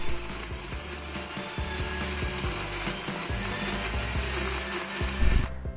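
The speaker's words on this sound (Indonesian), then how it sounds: "Lalu kita blender hingga halus." A kitchen blender grinds pandan and suji leaves with about 100 ml of water into a smooth juice, a loud, continuous whirring and rattling that runs steadily before cutting off at the end.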